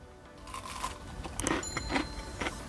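Crunchy Panda Express shrimp toast is bitten and chewed up close, giving several sharp crackling crunches over a few seconds.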